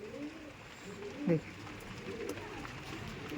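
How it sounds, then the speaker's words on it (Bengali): Pigeons, including Andhra and local birds, coo softly inside a loft during rain; several low, faint coos come and go, with one nearer and louder call in the middle. "নিচে এটা লফট আছে এখানে পায়রা রাখা হয়"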